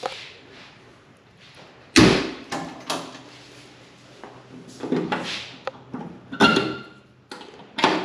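A sharp metallic clunk and latch release, followed by scattered knocks and creaks of a panel being lifted and handled, with quiet gaps between.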